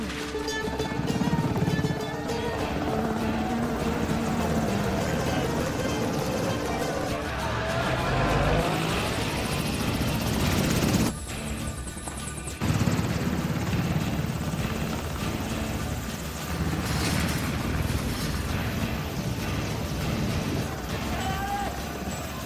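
Army helicopters flying in a film, a loud continuous rotor and engine roar with a sudden cut near the middle, then the droning resumes, mixed with other action sounds and a voice talking over it.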